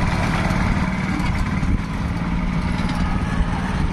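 A 7 hp Indian Agro chain cultivator engine runs steadily up close, a continuous loud low-pitched rumble with no breaks or changes in pace.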